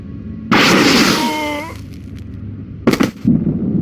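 Soldiers fire a blaster volley in the Star Wars KOTOR II game: a loud crackling burst with a ringing, falling whine, then a second shorter, sharper burst near the end.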